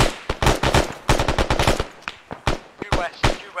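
Gunfire in the military video game Arma 3, heard as rapid bursts of sharp automatic shots followed by scattered single shots. The shots are loud and close, with brief voice chat between them.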